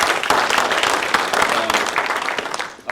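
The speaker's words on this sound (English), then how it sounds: "if clapping is appropriate." Audience clapping at a dean's summit, a steady dense patter of many hands filling the room for the whole stretch, fading slightly at the end.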